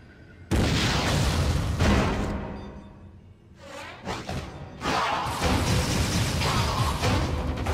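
A missile fired and exploding in Metroid Other M, a video game: a sudden loud blast with a long rumbling tail, a whooshing sweep, and further heavy booms and crashes following close behind.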